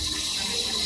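Water rushes steadily as it fills a McCann Big Mac carbonator during repair, a close, constant hissing flow with no voices.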